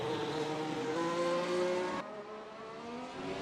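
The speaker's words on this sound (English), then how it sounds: "All the way up into 7th gear, going nearly 290 kilometers per hour" A race car screams along at high speed in 7th gear at nearly 290 km/h at Abu Dhabi, its loud steady high-pitched engine whine holding close, then dropping abruptly in tone near the end.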